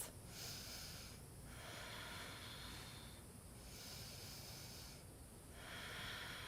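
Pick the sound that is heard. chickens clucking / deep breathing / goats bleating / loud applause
deep breathing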